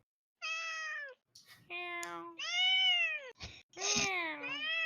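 A cat meows repeatedly, with several drawn-out, tonal, rising and falling calls in close succession, close and clear against a quiet background with no talking.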